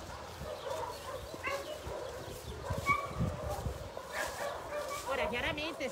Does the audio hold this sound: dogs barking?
yes